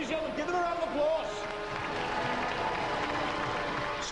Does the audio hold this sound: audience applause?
yes